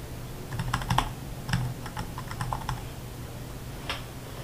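Close, quiet typing on a computer keyboard, with irregular clusters of sharp key clicks and short pauses between bursts, and no talking.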